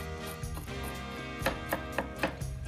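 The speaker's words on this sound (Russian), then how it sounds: "Ну вот, Саша измельчил орехи." Walnuts being chopped with a knife on a board, a series of sharp, close knocks in an irregular rhythm over a steady background hum, with no talking.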